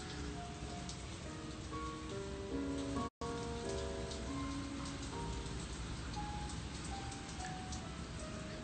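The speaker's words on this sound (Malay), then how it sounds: "Feelingnya hujan." Steady rain patters on a surface in a home kitchen, a continuous broadband wash lasting throughout with a brief dropout midway, while faint tonal sounds drift beneath it.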